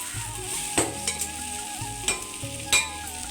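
Dalia frying in a pan for dalia khichdi: a soft continuous sizzle with a few sharp clinks and scrapes of stirring spaced about a second apart, close and moderately loud, with no voices.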